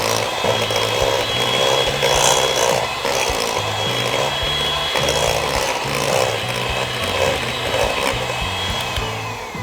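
Electric mixer running at low speed through cookie batter, a continuous close whirring drone with a scraping, rasping texture and gentle rhythmic variation throughout.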